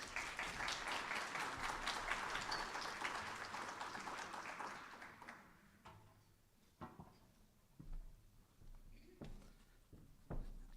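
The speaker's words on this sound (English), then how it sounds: "please give a round of applause for David Pilcher" Applause from a lunchtime history lecture audience greeting a speaker, a dense patter of claps for about five seconds that thins and fades, leaving a few scattered claps and room noise.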